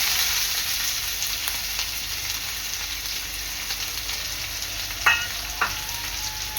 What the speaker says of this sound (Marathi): तेल चांगलं गरम झालेलं आहे। यामध्ये टाकणार आहे मी कढीपत्ता, बारीक चिरलेला कांदा,